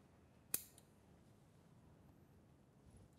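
A single sharp snip of scissors cutting embroidery thread on a felt banana brooch, one crisp click standing alone over a quiet room background.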